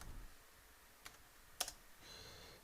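A value typed on a computer keyboard, a few soft, separate key clicks in a quiet room with no talk.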